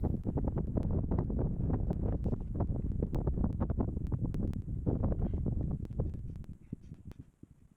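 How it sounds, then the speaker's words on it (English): Wind buffets a microphone outdoors during a ride break with a Royal Enfield Himalayan, a loud, close, gusty rumble with crackling bursts that eases toward the end. "Listen to the wind."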